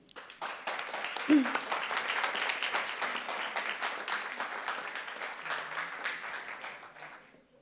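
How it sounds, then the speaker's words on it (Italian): An audience at a film festival opening night applauds as the director walks on stage, sustained clapping with crisp nearby hand strikes over a general crowd wash and a brief faint voice early on. "vorrei accogliere con un applauso sul palco il suo regista Rémi Tesier."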